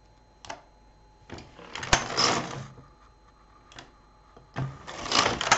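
A flatbed knitting machine carriage is slid across the needle bed in repeated short passes, each a rasping mechanical swish and clatter of a knitted row, separated by quiet gaps, close and fairly loud.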